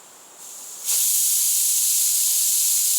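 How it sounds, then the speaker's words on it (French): A French pressure cooker, a cocotte minute, releases a steady hiss of steam that starts softly, then surges into a loud, continuous high-pitched jet and holds there, with no voices. "Si je prends une cocotte minute, je rétablis une pression positive, une pression plus importante, ce qui fait que ça va cuire beaucoup plus vite."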